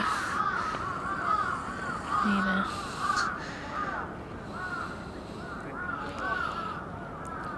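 Crows caw repeatedly by the moat around Osaka Castle, a steady chorus of harsh calls at moderate distance over outdoor ambience, with someone speaking briefly.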